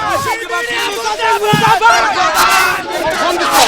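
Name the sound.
protest crowd chanting Azadi slogans at wrestlers' sit-in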